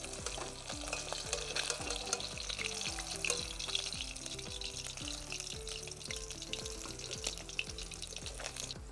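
Chitol fish fries in hot oil over low heat, giving a steady crackling sizzle that runs for the whole stretch beneath rhythmic background music, with no voices.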